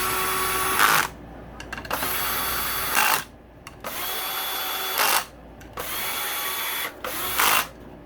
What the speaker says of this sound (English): Now I'll sink these in with the cordless.